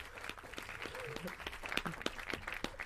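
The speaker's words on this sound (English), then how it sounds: "Why is somebody clapping?" A few people clap in short, uneven, fairly close bursts, quiet overall and mixed with a little background chatter.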